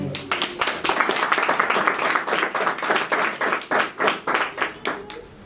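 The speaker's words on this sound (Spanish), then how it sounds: "Un aplauso para el Señor" A church congregation claps in a steady, rhythmic pattern of distinct beats, moderately loud and close, continuing for several seconds.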